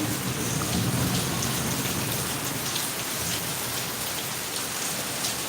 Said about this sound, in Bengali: বৃষ্টিটা একটু তোমাদের দেখাতে চলে আসলাম তো বৃষ্টি তো এবার থেমে আসছে আস্তে আস্তে